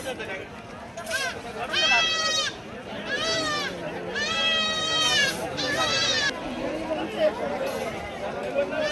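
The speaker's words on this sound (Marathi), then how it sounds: "चांगल्या शेळ्या आहेत पाळ्यासारख्या बघा" Goats bleat repeatedly at a busy livestock market in Shirur taluka, Pune district, several loud, wavering cries nearby rising over a crowd's chatter and background talk.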